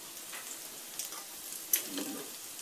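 Dried red chillies and spices fry in a pan with faint, steady sizzling and a few soft crackles and pops, no voices.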